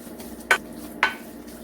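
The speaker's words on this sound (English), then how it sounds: "Let's give that a good mix. Make sure everything is incorporated." Sweet potato and carrot pudding batter is mixed in a bowl, with two distinct scraping strokes about half a second apart over a quiet background.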